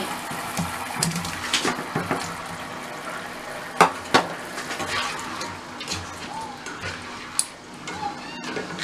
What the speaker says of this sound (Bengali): আমার মশলাটা কষানো হয়ে গেছে, এখন আমি এতে আলুগুলো দিয়ে দিচ্ছি।